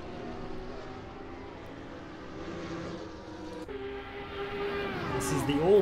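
A Porsche 911 race car engine drones steadily in a sim racing game at Road America, a sustained mid-loud whine that shifts pitch near the end, with a commentator talking over it.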